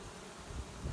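A steady low buzz of many bees droning together, close by, with the hum swelling louder toward the end.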